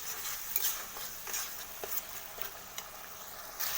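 Hilsa fish being stirred and sautéed in mustard sauce in a pan, with a soft continuous sizzle under light scraping and stirring strokes at an even pace, close by, no voices.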